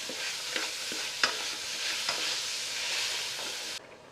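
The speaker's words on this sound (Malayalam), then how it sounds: "മട്ടൻ മാത്രം ഇതിലോട്ടങ്ങ് തട്ടി കൊടുക്കുക ആദ്യം. ഒന്ന് നന്നായിട്ടൊന്നുണ്ടല്ലോ ഈ എണ്ണയിലിട്ട് നല്ല രീതിയിലൊന്ന് മൂപ്പിച്ചെടുക്കുക" Pieces of mutton frying in hot oil for a mutton pulao make a loud, steady sizzle up close, broken by a few sharp stirring clicks before stopping abruptly.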